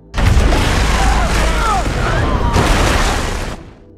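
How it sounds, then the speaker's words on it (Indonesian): A bomb goes off in an action film, a loud, sustained booming blast with a rumbling roar that holds for about three seconds before cutting away. "Chelsea langsung membawanya keluar tepat sebelum bom itu meledak."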